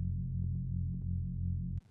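A deep, dry synth bass with no reverb or delay holds a sustained low note with a slight throbbing pulse, then cuts off abruptly with no tail.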